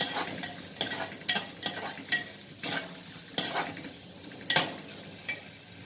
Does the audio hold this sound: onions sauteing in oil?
yes